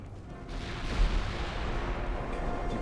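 Heavy rumbling booms from 15-inch naval guns in a battlecruiser engagement in Ultimate Admiral Dreadnoughts, a continuous low roar of gunfire with one stronger thump near the start, with no speech.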